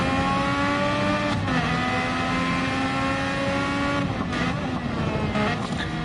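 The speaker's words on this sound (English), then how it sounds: "enjoy the view, listen to the engine sound." Onboard a race car in a sprint series event, the engine howls steadily at high revs, with brief pitch dips at gear changes as it works through the final corners, loud and close.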